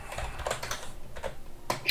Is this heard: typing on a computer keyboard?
yes